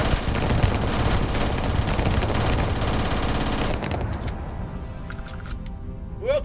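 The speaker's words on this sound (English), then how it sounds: "Who else is shooting at me?" Rapid automatic gunfire from a firefight in the video game Starfield, loud and dense for several seconds, then dropping off into scattered single shots and clatter.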